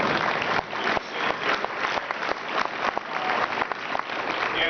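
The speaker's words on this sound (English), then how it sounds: "You can clap for that" Audience applause at the Ohio Chamber's annual tax conference, steady and full throughout, with crisp individual claps standing out from the crowd.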